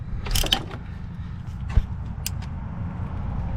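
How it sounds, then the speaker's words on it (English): A ratchet tightens a distributor bolt on a B20 engine, giving a few brief metallic clicks at close range over a steady low rumble. "I'm gonna use the ratchet to tighten it down now."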